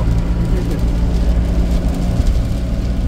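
Heavy rain drums on a moving car while driving, a dense steady hiss over the low rumble of the engine and tires, loud and continuous with no talk.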